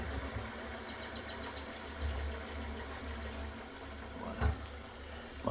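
A small steam engine drives a launch slowly through the water, producing a soft, low, steady churn with faint lapping water and a few light knocks, quiet and even throughout.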